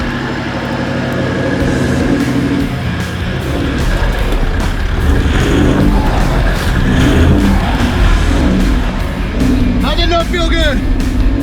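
Toyota Land Cruiser 79 Series, just recovered after a rollover, drives out at a jeep track near Coffs Harbour, its engine rumbling and revving close by, with people talking and cheering over it.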